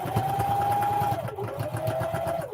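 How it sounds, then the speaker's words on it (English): Sewing machine stitching a fabric wallet seam, a steady, rapid mechanical hum and needle chatter running close and continuous, dipping briefly in pitch midway. "you could just sew at the very edge of your presser foot"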